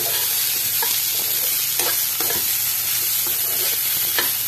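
Potato curry with chili powder and green chilies is stirred and sautéed in a pan, giving a constant close sizzle broken by intermittent scraping strokes of the spoon.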